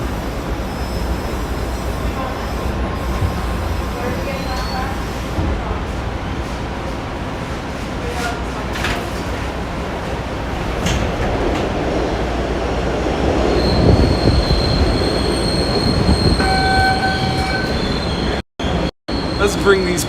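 Boston subway train pulling into Downtown Crossing, its wheels squealing in long high-pitched shrieks that rise over a steady rumble of rolling cars before brief cutouts near the end; an onboard announcement voice is heard.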